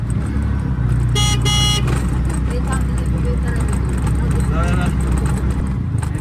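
Inside a moving auto rickshaw on the road to a hilltop temple, a constant loud engine drone and road noise carry on, broken by a brief double horn toot, with people talking over it.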